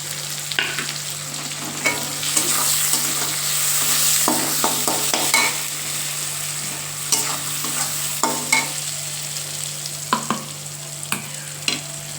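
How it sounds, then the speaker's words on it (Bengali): Spices fry in a pan under a continuous loud sizzle, broken by repeated scraping and clattering strokes of stirring, close up with no talking. "তাহলে আমার এবার ভাজা হয়ে গেছে, মশলা দিয়ে দেবো"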